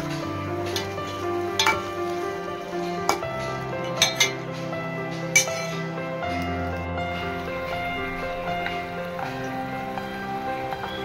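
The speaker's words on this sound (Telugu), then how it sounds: "అల్లం వెల్లుల్లి పేస్ట్ కూడా వేగిపోయాక కడిగి శుభ్రం చేసుకున్న చికెన్ని వేసి మంచిగా కలుపుకోండి" Chicken tossed in a hot pan with ginger-garlic paste masala for chukkakura chicken, sizzling and frying steadily, with occasional scraping stirs of a spoon against the pan, close and alone.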